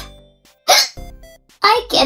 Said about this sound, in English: I get the hiccups.